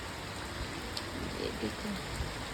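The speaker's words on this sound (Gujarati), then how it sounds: "અત્યારે ફૂલ વરસાદ આવે છે" Heavy rain pours steadily, a dense continuous patter filling the air without pause.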